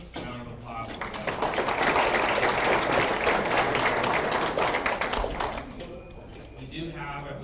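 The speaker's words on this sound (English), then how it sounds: "give a round of applause" An audience at a city address breaks into sustained applause, dense clapping swelling for several seconds before fading, with a voice speaking briefly at the start and end.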